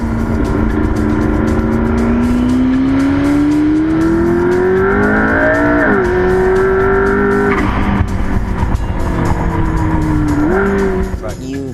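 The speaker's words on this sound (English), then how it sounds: "You can hear the electric. You can hear the turbo spool up." A McLaren P1 hybrid engine pulls hard and loud through rising revs, with a turbo whine spooling up over the steady roar, then shifts and climbs again.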